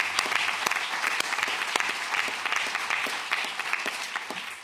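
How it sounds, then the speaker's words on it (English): A conference audience at a corporate governance event applauds, giving a steady round of many hands clapping with sharp individual claps standing out, moderately loud and sustained throughout without talk. "So a round of applause to the Ministry of Justice."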